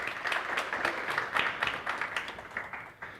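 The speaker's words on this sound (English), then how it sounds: "Let's give Veron a big round of applause." Audience applause at a CAF African School Football Championship event in South Africa, a steady wash of clapping from a crowd that carries on for a few seconds before fading slightly at the end.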